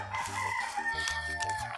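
A fowl crows and clucks faintly, somewhat distant and low in level over a steady background.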